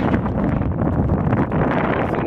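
Loud, steady wind rushes and buffets the microphone while a sailboat moves on a lake, a constant close roar with no clear speech.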